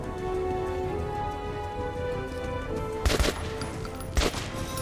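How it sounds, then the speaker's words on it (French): Gunfire in the shooter Metro 2033 Redux comes as two short, sharp cracks about a second apart over a steady background hum, the second slightly quieter than the first. "Hop là, une balle dans la tête, c'est réglé."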